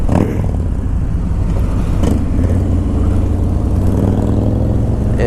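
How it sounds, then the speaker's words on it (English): A 2018 Harley-Davidson Road King motorcycle on a test ride, its engine a loud, steady low rumble close by with the road and wind noise beneath it. "I love the way the Road King handles."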